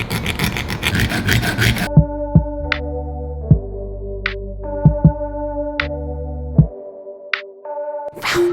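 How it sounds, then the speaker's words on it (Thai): A hand saw cuts through a metal spoon held in a clamp, scraping rapidly at first, then giving way to a series of sharp ringing metallic taps and tones with quiet gaps between them. "ใช้เครื่องมือที่จริงจังขึ้นมาหน่อยหนึ่งนั่นก็คือ เลื่อยนะฮะ"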